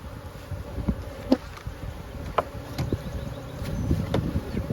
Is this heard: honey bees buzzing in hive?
yes